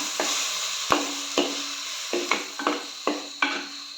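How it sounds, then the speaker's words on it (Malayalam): A spoon stirs coconut-based kozhuva fish curry in a pot, making about eight distinct scraping strokes in a loose rhythm over a soft background sizzle, with no talking. "എന്നിട്ട് നല്ലോണം ഇളക്കി കൊടുക്കുക"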